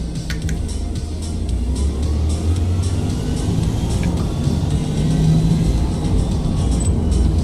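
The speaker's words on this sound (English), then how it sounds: "I can barely hear you over the car." A race car engine from the Forza Motorsport video game drones loud and steady throughout, a constant low rumbling whir with slight revving swells and no talk.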